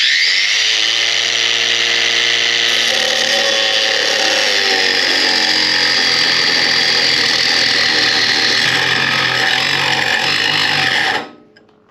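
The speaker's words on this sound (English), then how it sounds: "I did the test on the other grinder using this disc" A Black & Decker cordless grinder cuts with a disc, a loud, close, sustained high whine with a steady motor drone that holds for about eleven seconds, then spins down quickly.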